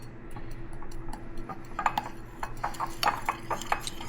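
A spoon stirs inulin into a homemade yogurt mixture in a bowl, giving scattered light clinks and taps against the container over a soft steady background hum, with no talking.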